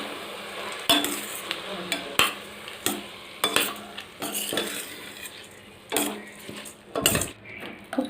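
Washed rice being stirred into a pan while making coconut milk rice: a spoon scrapes and clinks against the metal in irregular knocks, with a soft low sizzle beneath and no talking.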